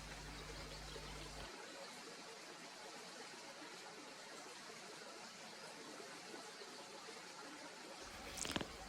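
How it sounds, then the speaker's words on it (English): Steady hiss of running water pouring out of a dike near How Hill in Ludham, a constant broadband rush heard from nearby, quiet and unbroken, with a brief faint rustle at the end. "I'm picking up the sound of the water coming out of there."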